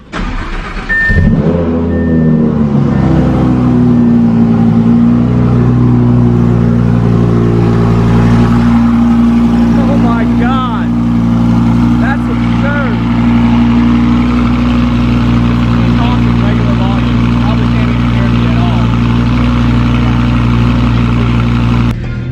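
A Lamborghini fitted with a Fabspeed exhaust system starts up with a sharp crank, then settles into a loud, steady idle close by, with a few brief blips of the throttle over about twenty seconds.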